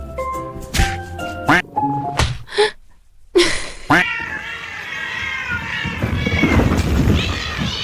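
A cat meows several times in short, sharp calls early on, followed by a thud, a brief silence, then a denser, busier stretch of continuous sound.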